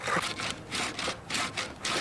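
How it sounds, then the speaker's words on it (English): A copper tube fed with sand drills by hand through stone, making a rough rhythmic grinding and rasping in repeated strokes, about six close, steady passes with short pauses between them. "the sand is now steadily and slowly but surely cutting its way right through the stone"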